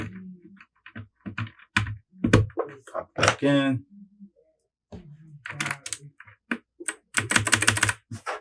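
Keys clack on a Royal Kludge RK100 RGB 96% mechanical keyboard fitted with hot-swap Gateron Blue switches, in close, loud bursts of rapid clicky typing with brief pauses, while someone speaks briefly.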